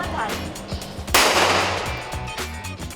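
A single loud gunshot from a real gun fired into the air cracks out mid-clip, its broad burst decaying over a second, against a low background with faint voices.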